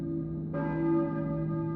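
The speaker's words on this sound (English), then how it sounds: "I hear a bell, a church bell maybe?" A single church bell strikes in the video game Silent Hill 1 on PS1, a clear resonant toll over a low droning background that rings on and slowly decays.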